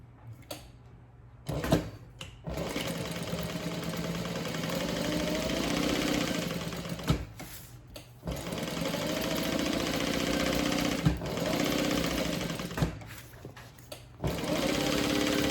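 A sewing machine basting a handbag panel, running in several close, steady mechanical bursts of rapid stitching separated by brief pauses.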